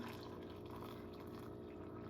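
Hot water pours steadily into a cup for tea, a continuous close liquid rush with no pauses over a couple of seconds.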